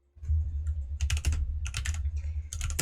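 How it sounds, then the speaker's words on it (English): Keys clatter on a computer keyboard in quick uneven bursts of clicking, separated by short pauses, close and fairly loud with no talk. "I hate using this keyboard."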